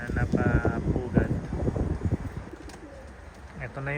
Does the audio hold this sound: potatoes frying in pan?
no